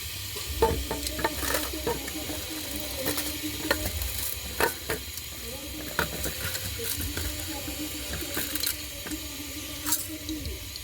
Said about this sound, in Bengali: মুগ ডালটা আগে ভেজে নেব